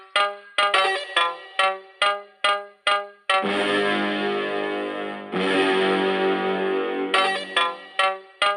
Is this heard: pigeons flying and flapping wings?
no